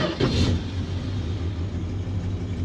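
A 1967 Dodge Dart's engine catches and revs up, a loud close rumble swelling briefly at the start then settling into a steady, throaty idle.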